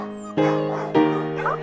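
Puppies yip and whimper in a few short, high-pitched bursts, close by, with a steady tonal whine running underneath.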